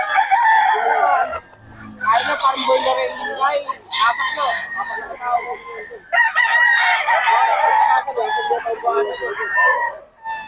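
Roosters crow repeatedly, loud and close, with their calls overlapping while a voice talks over them.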